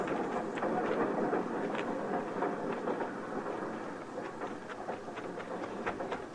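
A continuous rumbling clatter of a train rolls along steadily, with faint rhythmic clicks over a broad, noisy wash.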